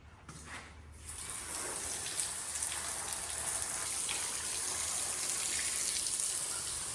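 A water spray rinses penetrant off a test part, giving a steady hissing splash that starts softer and grows fuller after a second, then holds a continuous wash with no voices over it.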